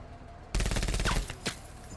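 Heavy video game gunfire erupts abruptly as a rapid, loud automatic burst lasting under a second, followed by a couple of fainter trailing shots.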